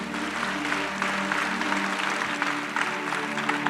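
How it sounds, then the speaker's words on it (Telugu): A church congregation claps together in a steady, dense wash of applause that fills the whole stretch, loud and sustained with no talk on top. "చప్పట్లు కొట్టండి అంత."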